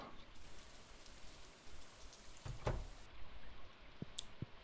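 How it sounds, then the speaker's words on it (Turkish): Steady rain in the game Stardew Valley patters on a surface in a constant soft hiss, with a few louder drips and clicks standing out near the end. "Yağmurlu hava."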